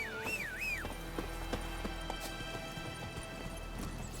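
Horse hooves clip-clop at a steady galloping rhythm in The Witcher 3, faint and even beneath a whistling, warbling tone heard at the start.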